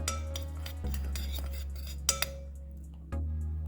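Chicken is mixed by hand with salt and corn starch in a bowl, heard as soft close scraping and stirring, with a couple of brief clinks of a utensil against the dish.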